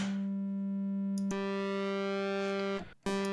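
Steady static triangle wave tone from a Cherry Audio Mercury-6 synthesizer, a sustained buzzy pitch with rich harmonics that shifts brightness partway, then cuts out briefly and resumes.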